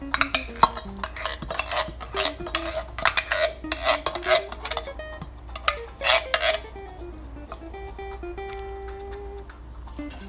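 Canned Wendy's chili scraped and poured into a metal saucepan, a run of sharp clinks and scraping knocks of a utensil against the pan, irregular and close, tapering into quieter scrapes toward the end.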